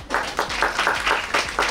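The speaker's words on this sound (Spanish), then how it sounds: "un aplauso para ustedes por estar aquí presentes" Audience applause at a New York Fashion Week presentation for Latin American fashion designers, a steady burst of clapping from a crowd, fairly close and continuous without speech.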